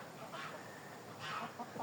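Domestic hens and roosters of a crested, bearded breed give soft, faint clucks in a backyard flock, with a few brief calls rising over a quiet background.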